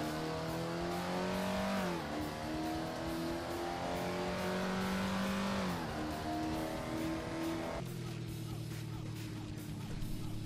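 In the Assetto Corsa video game, a 1955 Jaguar D-Type engine revs up repeatedly, its pitch rising through each gear and dropping sharply at the shifts. The engine note is loud and continuous, with no talk over it.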